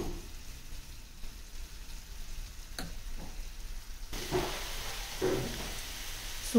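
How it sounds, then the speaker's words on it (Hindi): A masala of garam masala and dry coconut paste fries in a pan for chicken gravy, a soft, steady sizzle with a few stirring clicks that turns a little louder near the end. "सूखी नारियल की पेस्ट डालने के बाद हम लोगों को ये मसाला अच्छे से फ्राई करके लेना है, जब तक इसका तेल ना छूट जाए।"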